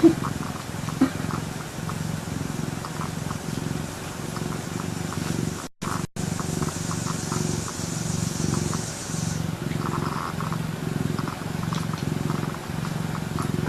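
A pet cat purrs close up in a soft, steady, rhythmic rumble that continues for over ten seconds, with faint background sounds and brief dropouts.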